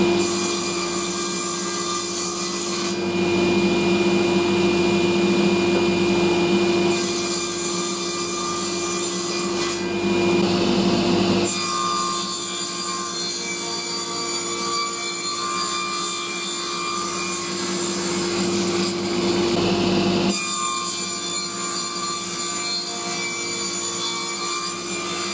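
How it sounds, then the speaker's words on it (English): Power tool cutting a rebate into recycled pallet wood end boards for a beehive, a loud sustained whine with steady tone broken by a few brief pauses as the cut proceeds. "I've just got to cut a rebate in them for the sideboards to fit into."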